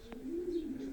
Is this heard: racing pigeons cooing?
yes